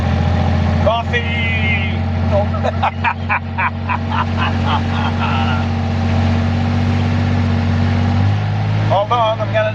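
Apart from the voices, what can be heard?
quad bike engine running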